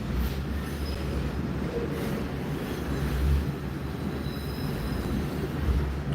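An exo commuter train rolls along the rails toward Cedar Park Station, heard from inside: a steady, loud low rumble with thin, high wheel squeals drifting in and out.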